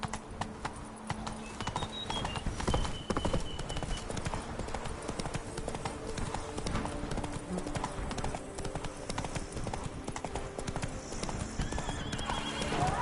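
A horse in The Witcher video game gallops with rapid, steady clip-clop hoofbeats throughout, joined by a whinny and ambient game sounds in the background.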